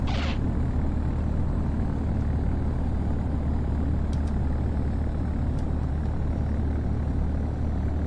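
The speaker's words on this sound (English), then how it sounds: "And that sounds just like it would sound like if you landed on grass." A flight simulator aircraft rolls along a grass runway, a dense, steady low rumble with broadband roar that holds constant throughout, with a short hiss at the start and a few faint clicks.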